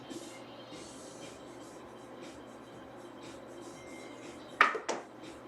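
Dice tossed across a craps table during a casino game: a short, sharp clatter of tumbling and bouncing near the end, over a steady low room murmur.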